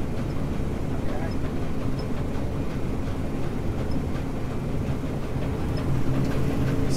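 Combine harvester cutting wheat, a steady, loud mechanical drone and rumble of engine and header running continuously throughout, with voices talking over it.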